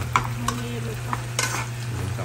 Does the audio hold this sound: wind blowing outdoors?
no